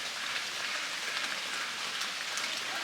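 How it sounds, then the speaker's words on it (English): Steady rain falls outdoors around a backyard duck flock, a dense, even hiss of drops that runs without pause at moderate volume, with no voices. "We needed the rain, and the ducks are loving it."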